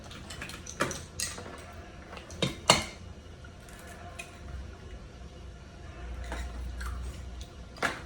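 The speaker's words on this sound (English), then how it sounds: "she's going to crack 2 eggs and put it in there" Two eggs cracked against a mixing bowl in a home kitchen, heard as a few sharp taps and clinks spread out with quiet pauses between them, close and fairly faint.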